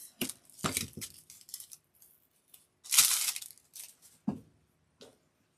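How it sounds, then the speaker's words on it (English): Scissors snip through a plant tag in a few quick, close cuts with crinkling between them, then a brief papery rustle; faint handling noises follow. "I'm just going to cut the tag off."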